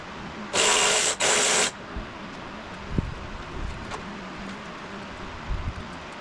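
A ratchet works on 10 mm bolts on the oil metering pump of an FC RX-7, two short bursts of rapid clicking close to the microphone, followed by quieter taps and shop clatter.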